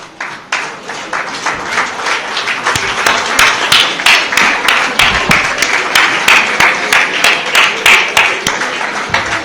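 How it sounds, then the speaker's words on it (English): An audience at a golden jubilee celebration claps steadily, a dense, continuous patter of many hands filling the room with sharp individual claps standing out near and loud. "I would like to ask the members to stand up and others to clap, please."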